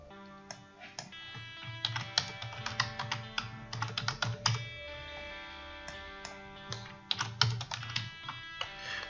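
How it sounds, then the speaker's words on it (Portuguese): Typing a complex password on a computer keyboard while setting up a Windows Server 2016 lab for an Active Directory migration from Server 2003: rapid, irregular bursts of close key clicks with short pauses between runs. "digitar a senha, que é a mesma senha de recuperação do Active Directory"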